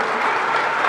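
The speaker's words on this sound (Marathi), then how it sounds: "टाळ्या याकरता वाजवू नका, पुढच्या गोष्टी करता टाळ्या वाजवा" A crowd applauds at a Devendra Fadnavis political rally in Nalasopara, a brief, loud burst of dense clapping from a large audience.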